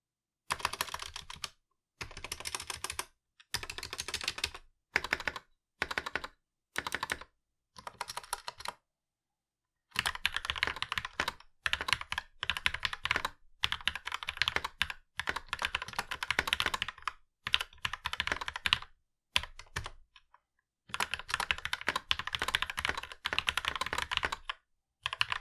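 Clacky typing on a budget tenkeyless custom mechanical keyboard, straight out of the box, comes in bursts of rapid keystrokes, broken by short silent pauses, close and clear.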